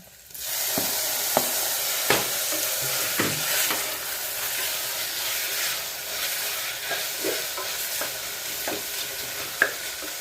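Tomatoes sizzling and frying in a pan while making green peas masala, a steady broadband hiss that holds throughout, broken by a few soft stirring clinks and scrapes.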